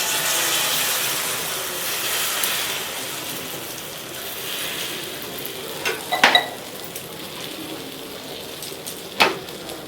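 Beaten egg mixed with chili, onion and salt sizzling in a hot frying pan, a steady hiss and crackle throughout with a few sharper pops and clinks toward the end, no voices.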